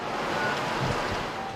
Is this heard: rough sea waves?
yes